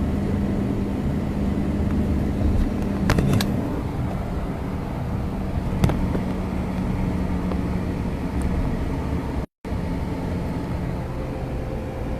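Steady interior drone of a car being driven with a mother cat on board, heading to the vet, holding constant with a few faint knocks and one brief dropout.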